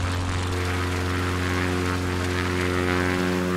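A propeller airplane in Microsoft Flight Simulator, flying over Rio Largo in Alagoas, drones with a loud, steady engine hum and strong even tones, continuous and close with no talk.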